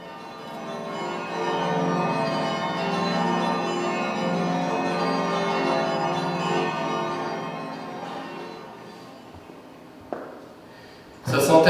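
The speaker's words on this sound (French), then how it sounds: "le son des cloches qui montent en puissance." Church bells ring in a dense, sustained wash of overlapping tones that swells steadily louder, followed by a couple of sharp knocks near the end.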